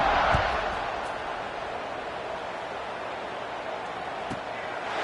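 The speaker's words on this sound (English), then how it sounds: "this crowd is buzzing after that last score" Football stadium crowd at a college game between Nebraska and Syracuse, a continuous distant roar and murmur of many voices filling the space, steady in level with a slight swell at the start.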